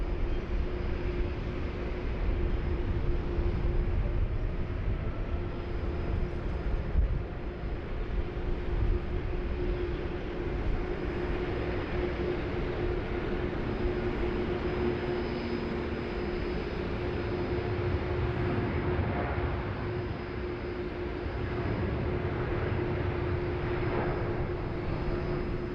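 Qantas airliner departing runway 16 right at Sydney Airport, bound for Johannesburg: a continuous, steady jet engine roar with a sustained tonal hum, heard from a distance without voices throughout.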